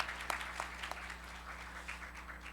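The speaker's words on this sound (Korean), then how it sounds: "박수 한번 쳐주세요." A church congregation gives soft, scattered applause after a young child's piano debut, a faint ripple of clapping that continues through the short moment.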